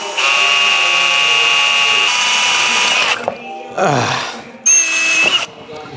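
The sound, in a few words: power drill drilling into exhaust resonators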